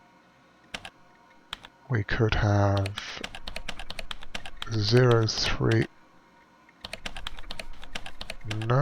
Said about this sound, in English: A lot of clicking involved now.